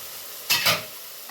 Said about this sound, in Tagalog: Lalagay na natin yung mushroom